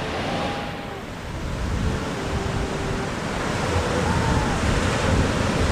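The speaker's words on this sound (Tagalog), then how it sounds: "Malalaki alon na yan" Large white-capped ocean waves breaking at sea make a steady, broad roar with wind rumble across the microphone, loud and continuous throughout with no speech.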